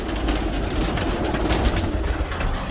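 A flock of pigeons coos continuously nearby, soft overlapping throaty calls over a busy rustling background, with no voices present.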